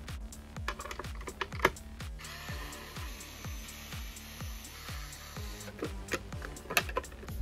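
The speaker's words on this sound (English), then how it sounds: "Now we will remove the motherboard by taking off 5 screws." Small screws being removed one by one from the internal motherboard of a Marshall Kilburn III Bluetooth speaker during a teardown, giving repeated close, light mechanical clicks and scraping ticks in a steady rhythm with a faint whine partway through.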